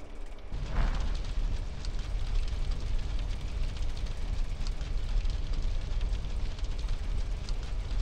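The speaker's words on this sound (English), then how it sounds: "They started a fire to keep us back!" Fire burning in GTA San Andreas during the mission The Meat Business: a steady, dense roar and crackle that rises suddenly after a brief quiet start and holds loud and constant throughout.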